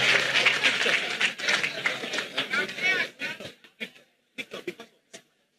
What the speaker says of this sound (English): Please, a round of applause for all the panelists here.